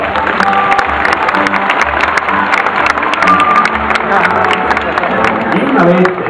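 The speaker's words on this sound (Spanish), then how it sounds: "Los recibimos con un fuerte aplauso." An audience claps steadily through a dolphin show, a dense patter of applause running the whole time, with voices talking and calling out over it.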